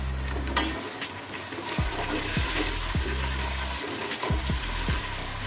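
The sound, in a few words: ginger garlic paste sautéing in mustard oil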